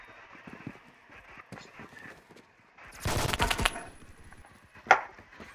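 Groza rifle gunfire in the video game Phantom Forces, a sharp burst of rapid automatic shots in the middle, then a single loud crack near the end, over quieter game noise and faint speech.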